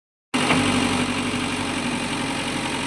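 A JCB backhoe engine runs steadily while the machine lifts a tree root out of the ground, a loud, constant near idle-like rumble with a sharp onset and no speech.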